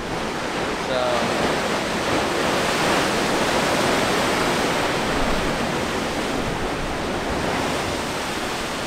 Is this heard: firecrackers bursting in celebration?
no